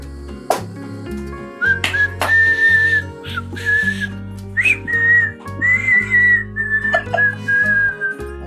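A man whistles repeatedly in loud, sustained shrill bursts imitating a train engine's whistle, with a few sharp knocks and thuds between the calls.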